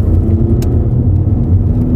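A VW Passat B6 2.0 TDI Comfortline diesel accelerates gently, with a steady low engine drone and road rumble heard from inside the cabin, continuous and even throughout.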